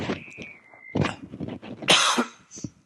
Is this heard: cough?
yes